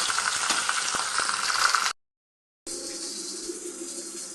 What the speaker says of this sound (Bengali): একটা করে আমি ভেজে ভেজে উঠিয়ে নেবো